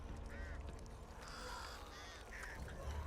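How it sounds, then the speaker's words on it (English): Zombie crows in Back 4 Blood caw in short, rasping bursts repeated several times at moderate distance over a low game ambience rumble. "Whenever you see birds on screen, these crows, these zombie type crows,"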